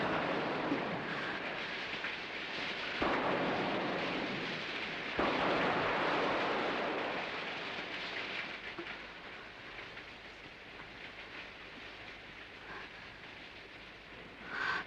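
Heavy rain pours steadily in a Kannada movie scene, with deep rolling thunder swelling in bursts over the dense hiss of falling water, no voices, lasting about fifteen seconds.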